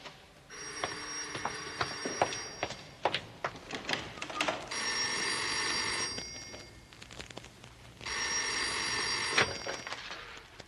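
A telephone rings in a quiet room, two long insistent bursts of bell-like trilling separated by a short pause, with a few light clicks and knocks before the first ring.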